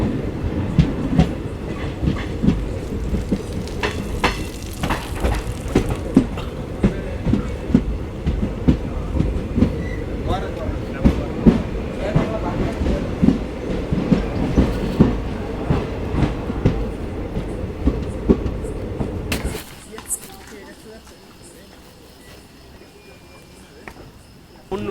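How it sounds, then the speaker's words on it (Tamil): An express train from Coimbatore to Thoothukudi rolls into Udumalaipettai station, wheels clacking rhythmically over rail joints with a steady rumbling roar that fades sharply near the end as the train slows. "நம்ம ட்ரெயின் வந்து பார்த்தீங்கன்னா இப்போ உடுமலைப்பேட்டை ஸ்டேஷன் உள்ள அரைவல் ஆகுதுங்க"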